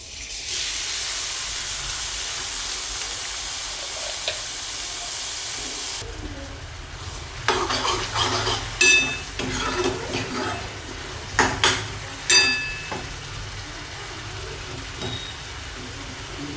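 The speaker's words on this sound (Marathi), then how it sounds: "कढईमध्ये आता तेल टाकून घेऊया. त्यानंतर आपण जे कांदा वगैरे चिरून ठेवलेला आहे, लसूण चॉपरमध्ये, ते टाकून घ्यायचं आहे." Chopped onion and garlic hit hot oil in a kadhai while pav bhaji is being made, giving a steady broadband sizzle and hiss that swells into louder crackling bursts and clatter midway, close and with no talk.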